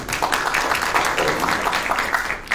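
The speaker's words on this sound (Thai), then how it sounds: "เราปรบมือให้น้องทั้ง3ท่าน" Audience applause at a Thai panel forum on social security and labour law: steady, even clapping from a crowd that holds for the whole stretch with no pauses.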